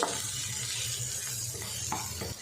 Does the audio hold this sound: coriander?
yes